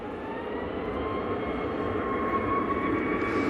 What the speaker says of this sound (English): It is a KLM Dreamliner.